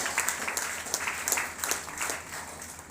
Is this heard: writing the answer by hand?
no